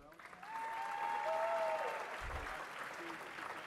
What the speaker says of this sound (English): let's give a round of applause for all of our wonderful county honorees